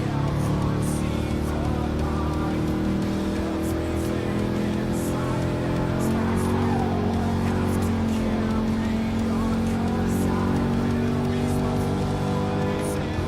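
Abarth 500 compact car in the video game Gran Turismo Sport, its engine held under steady throttle for a long, loud continuous drone with slowly shifting pitch, a voice talking over it at times.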